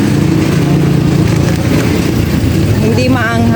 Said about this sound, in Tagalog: Ang ingay ng sasakyan.